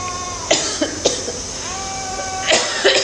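A young child with a bad cough coughs in several short, harsh bursts at night before nebulizing, close up, with brief whimpering between coughs.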